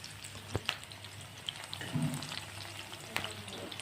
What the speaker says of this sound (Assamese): যিহেতু পিঁয়াজখিনি ভাজি আছোঁ এতিয়া তেলত বঢ়িয়াকৈ